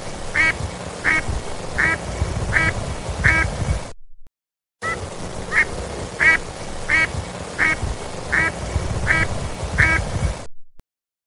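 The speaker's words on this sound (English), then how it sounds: "A duck made this sound." A duck quacks in a steady series of loud, nasal calls, about one per second, over an outdoor background, with a short gap partway through.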